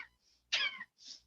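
During a lung-expanding breathing exercise, forceful breaths push out of the chest in short bursts, one sharp cough-like exhale between softer huffs, close and quiet.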